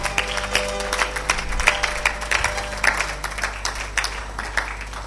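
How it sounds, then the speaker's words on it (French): A church congregation applauding, dense steady clapping from a crowd filling the room, loud and continuous without talk. "Acclamez pour le Seigneur"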